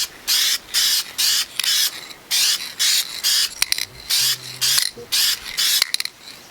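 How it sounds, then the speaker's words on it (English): Repeated short bursts of spray paint hissing from an aerosol can, about a dozen quick blasts in an uneven rhythm, close and fairly loud, with faint clicks between them. "Time to test if the spray paint's the right color."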